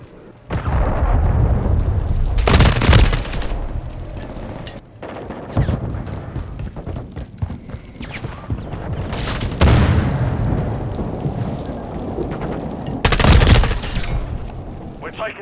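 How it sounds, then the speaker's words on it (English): Cruise missile strike explosions in Call of Duty Modern Warfare 3 multiplayer, several heavy booming blasts spaced over time amid ongoing gunfire, loud and close. "Hostile cruise missile incoming."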